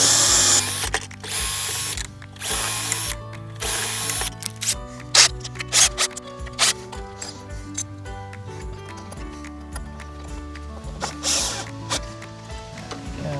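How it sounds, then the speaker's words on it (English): Drilling pilot holes and driving wood screws to mount a hasp staple produces bursts of whirring and ratcheting clicks, close and intermittent, with short pauses between runs and no talk. "I'll do some pilot holes and mount our staple."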